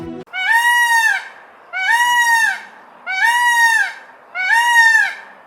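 Peacocks in a park in Bukhara, Uzbekistan, call loudly: four long nasal, wailing cries at an even pace, each rising and falling, close and dominant over a quiet background.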